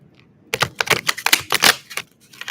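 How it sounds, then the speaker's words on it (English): A quick burst of crisp, papery flicks and riffles as tarot cards are shuffled, repeated rapidly for a couple of seconds, close up, after a brief quiet start. "I'm going to shuffle."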